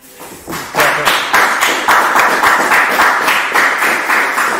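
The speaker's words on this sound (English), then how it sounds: "All right, let's clap it up." At a closing service of the Feast of First Fruits, a congregation claps in a steady rhythmic beat that swells in quickly and stays loud and even throughout.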